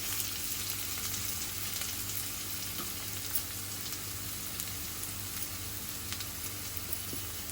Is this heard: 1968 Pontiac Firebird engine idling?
no